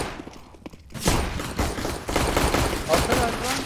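Rapid gunfire rattles on continuously through a tactical shooter video game match, a dense burst of shots that grows louder after a brief lull, with players talking over it.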